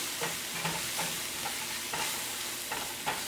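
Garlic sizzling in hot butter in a pan, a steady crackling fry broken by repeated soft scraping strokes as it is stirred, close and fairly loud with no talking.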